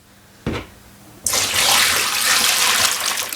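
After a brief thump, plain cold water gushes loudly and continuously into a big dye container for yarn, a close, full rushing pour.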